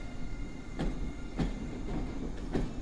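An EU44 Husarz electric locomotive hauls an unannounced international train through Warszawa Zachodnia station on a snowy day, a steady rolling rumble broken by a few sharp, evenly spaced wheel clacks, close by and without voices.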